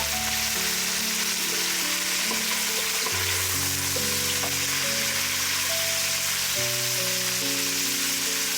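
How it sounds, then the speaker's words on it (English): Pork ribs sizzle and fry in a pan for Filipino-style kaldereta, a steady, close crackling hiss with occasional stirring and faint clinks, no talk. "Then we will add our pork ribs."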